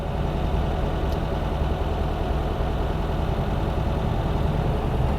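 A 1971 VW Squareback engine idles steadily with a continuous, even low rumble that holds at one level throughout, with no talk over it.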